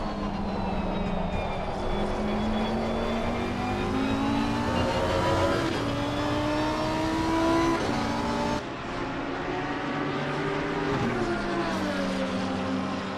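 A McLaren GT3 race car engine in the Assetto Corsa Competizione game during an SRO 2023 GT3 championship race, droning loud and continuous with rising and falling revs and gear shifts, a few other cars blended in.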